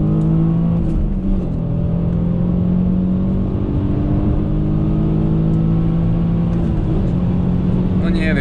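A 2003 Alfa Romeo 166 3.0 V6 accelerates on the Autobahn with a steady, rising engine drone heard from inside the cabin, loud and continuous, with someone talking over it.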